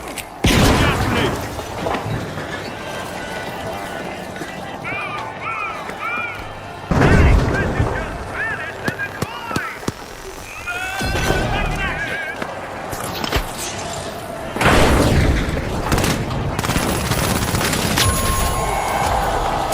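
Grenade blasts and gunfire from The Finals video game, several sharp booms and rattling shots layered over game sound effects, with players talking over them.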